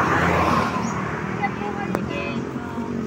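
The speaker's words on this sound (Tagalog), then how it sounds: "Yan, yung tricycle namin." A motorized tricycle rolls by on a road, its engine rumble loudest at first and then fading, while people talk nearby over the traffic noise.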